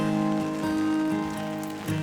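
Steady rain patters on an autumn forest campsite beside a river, a soft, even hiss of drops with a low hum underneath and no voices.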